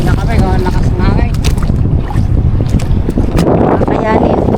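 Strong wind buffets the microphone in a loud, steady roar over open water from a boat, with people talking intermittently throughout.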